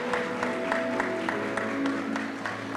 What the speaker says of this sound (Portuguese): Palmas para Luciana, gente